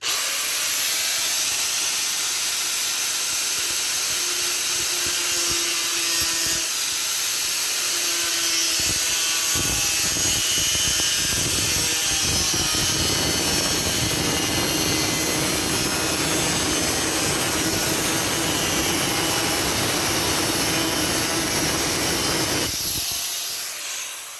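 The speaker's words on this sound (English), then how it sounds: "I'm gonna use my cut-off wheel here" A cut-off wheel slices through a plastic rocker cover for a 1999-2007 Chevy Silverado, making a loud, steady, hissing whine that runs almost unbroken for about twenty seconds before stopping abruptly near the end.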